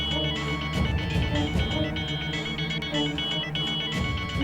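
An incoming call sets a phone ringing, with a repeating melodic ringtone that plays loud and steady from start to finish.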